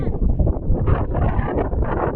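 Strong wind gusting at a hilltop viewpoint in Chikmagalur, roaring and buffeting the microphone in a continuous loud rumble with no pauses.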